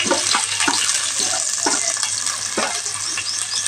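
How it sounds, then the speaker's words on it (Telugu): Green chillies fry in hot oil, giving a steady sizzling hiss with intermittent stirring clicks and scrapes, close and moderately loud, with no talking. "ఆయిల్ అయితే వీటెక్కింది ఇప్పుడైతే పచ్చిమిర్చి"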